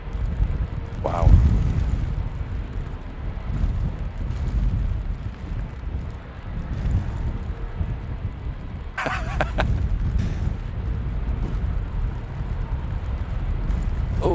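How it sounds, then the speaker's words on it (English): Ryanair jet arriving at Manchester Airport in strong wind: a steady roar of gusts buffeting the microphone, with faint, distant aircraft engine rumble mixed into the blustery noise and a brief higher hiss partway through. "Ryanair coming in, by the looks of it."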